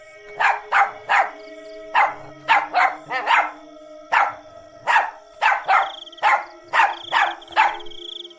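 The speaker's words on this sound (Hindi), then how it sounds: "वो जोर जोर से भौंकने लगता है।" A dog barks loudly and repeatedly at close range, about twenty sharp barks in uneven bursts with short pauses between them.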